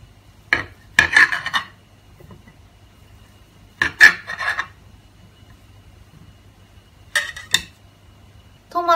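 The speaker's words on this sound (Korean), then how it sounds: "하몽 세라노를 2cm 크기로 깍둑 썰기를 해줍니다." A knife dices jamón serrano into 2 cm cubes on a board, giving several short clusters of close rasping cuts separated by quiet pauses, with no voices.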